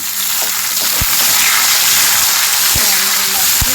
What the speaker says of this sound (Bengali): ভালো করেই পেঁয়াজ রসুনগুলো ভাজা হয়ে গেছে